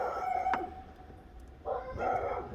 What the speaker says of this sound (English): dog out there in the yard freaking out is one of my hounds